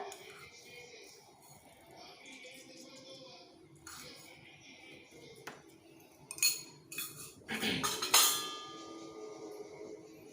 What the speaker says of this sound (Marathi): तेल तापलेलं आहे त्यात आता आपण मोहरी घालूया